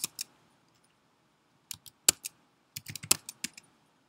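Close, crisp clicks of a computer keyboard being typed on, two quick taps followed by a pause and then an irregular burst of rapid keystrokes, dry and isolated with no speech.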